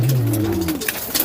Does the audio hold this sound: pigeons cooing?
yes